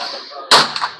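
A single sharp, loud iron-sighted hunting rifle shot fired while zeroing at a target, bursting out after a quiet stretch and followed by a short decaying echo.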